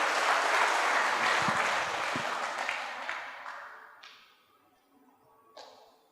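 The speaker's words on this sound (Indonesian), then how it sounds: "Mohon aplaus untuk Tiansi dan One Vision Indonesia." Audience applause at a business community event swells loudly at first, then thins and fades away, ending in a few scattered late claps.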